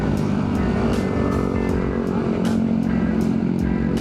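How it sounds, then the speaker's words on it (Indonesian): A motorcycle engine drones steadily and fairly loud throughout on a road in Pangalengan, with broadband wind and road noise and a few brief clicks on top, with no clear pass-by swell. "Ada motor."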